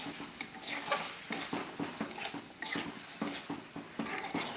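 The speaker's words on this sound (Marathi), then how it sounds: "ही भाजी मी दोन मिनटं अशीच परतून घेते" A spoon stirs and scrapes green tomato curry as it sautés in a pan, giving a rhythmic series of scraping and clinking strokes over a soft sizzle, with no speech.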